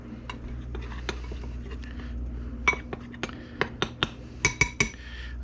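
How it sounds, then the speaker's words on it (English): Squirrel pieces tossed with a tablespoon of barbecue rub in a bowl, giving a run of sharp utensil clinks and taps against the dish, sparse at first and then quicker and louder toward the end, close by and with no talk. "We're going to put about a tablespoon of our favorite barbecue rub in there. Mix it together."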